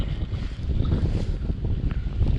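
Steady wind rushes across an open snowy field, buffeting the microphone with a loud, low, continuous roar that swells and dips without any talking.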